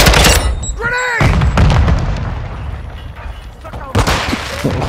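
Grenade explosion in Call of Duty: Modern Warfare II during a team deathmatch, loud booming blasts and rumbling gunfire close up, with shouted voices over the chaotic battle noise.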